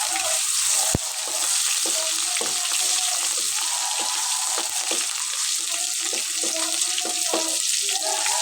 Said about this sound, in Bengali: দিয়ে আমি এখানে কয়েকটা গোটা রসুন ছোটো করে এটা ভেজে নিব।